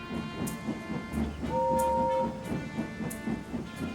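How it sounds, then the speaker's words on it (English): A steam train pulls away after a guard's whistle, with a steady rhythmic chuffing and a sustained whistle tone in the middle, moderately loud against a light hiss. "with the blow of the guard's whistle and the wave of the green flag, Gordon and his long train was off"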